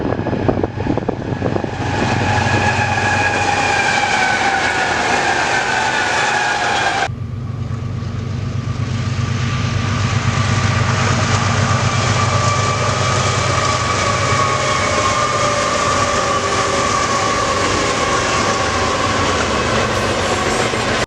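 A westbound freight train passes close and loud, with a steady heavy roar of wheels and cars, clattering rail noise and a sudden shift in tone partway through as it keeps rolling by.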